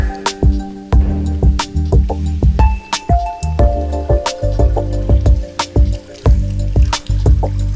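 Water pours into a bottle during a pause in a run, with repeated sharp drips and gurgling splashes close by, filling steadily over several seconds without any talking.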